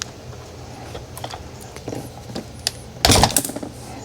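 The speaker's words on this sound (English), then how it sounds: "Take this clamp off. Let me grab some pliers." Pliers work a hose clamp off a Bissell Little Green Pro, with small scattered metallic clicks and taps up close, then a louder burst of rattling and scraping near the end.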